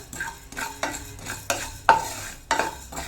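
Coriander seeds dry-roasting in a pan over low flame for homemade sambar powder, a utensil sweeping the dry seeds in about six distinct rhythmic scrapes with a soft rattling rustle, close and alone.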